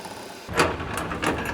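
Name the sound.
pumping handle of HFD 100 rivet nut tool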